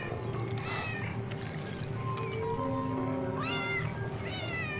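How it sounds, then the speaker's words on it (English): Several cat meows from a 1988 film soundtrack overlap one another over a steady low background hum, with rising and falling cries clustering toward the end. "meows are overlapping one another, and it's all just supposed to be the one cat."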